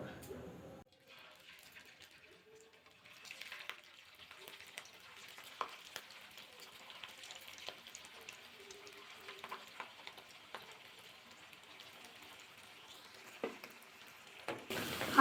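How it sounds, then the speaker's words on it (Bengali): Cauliflower and carrot pieces frying in lightly heated oil in a pan, a faint steady sizzle with small scattered pops and clicks, quiet and close throughout. "এবার পিসগুলো দিয়ে ভাজা করে নেব।"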